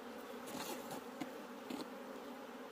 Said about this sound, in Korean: 이번에 들어온 동양종 꿀벌이죠